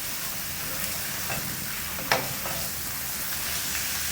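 Chicken curry strips frying in a pan, a steady close sizzle with a single brief scrape or tap partway through, no talking.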